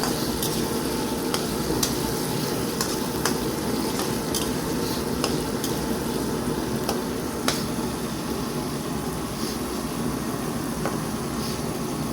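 Tomatoes and dilis (anchovies) sauté in a hot pan with a steady, even sizzle, and a utensil stirring the food gives occasional sharp clicks and scrapes.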